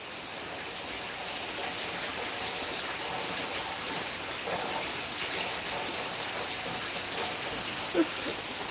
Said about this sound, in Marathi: पाऊस जरा कमी झालेला आहे आता पाऊस आमच्याकडं भरपूर आहे